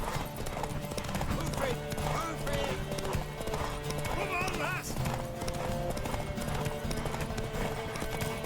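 Hooves clip-clop steadily as a horse runs in The Witcher 3 video game, with an occasional neigh, set under game music and voiced character dialogue throughout.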